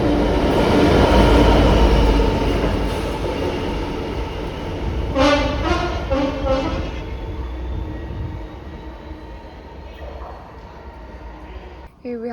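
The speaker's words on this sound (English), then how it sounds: "Here we have a Freightliner to Inverness." A Freightliner freight train passes through Aviemore station, a loud rumbling approach easing into a lighter rolling sound, with a short run of horn-like tones in the middle and a brief sharp sound at the end.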